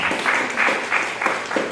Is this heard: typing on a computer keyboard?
no